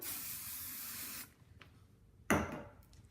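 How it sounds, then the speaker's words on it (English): A steady hairspray aerosol hisses for about a second, stops, then a second shorter burst follows after a quiet pause, close up, while styling a gymnastics meet hair bun. "I'll spray a little bit more"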